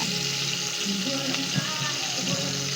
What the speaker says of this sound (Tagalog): lagyan lang natin ang ating kawali ng mantika para maprito na natin ang ating isda